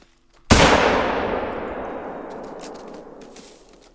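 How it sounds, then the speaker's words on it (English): A single loud rifle shot fired at a bull elk in the hunting video game theHunter: Call of the Wild, cracking sharply and then rolling away in a long, fading echo across open terrain. "Let's pop up and see if we can get a shot."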